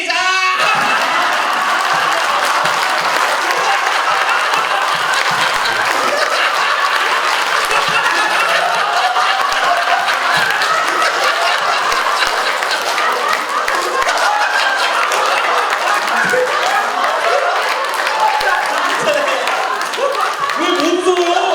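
Audience members clap hands while laughing together at a laughter therapy session, a dense, steady wash of applause and laughter that runs close and loud without pause.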